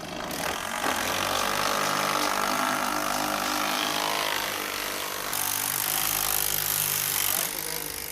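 A screw with a countersinking tip is driven into a wooden beam, giving a loud continuous power-tool whine and grinding through the wood that runs close and unbroken the whole time, with talk mixed in.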